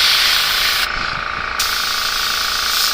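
A steady hiss of a paint sprayer spraying thin paint at very low air pressure runs throughout, briefly softening for a moment before resuming its even, airy rush.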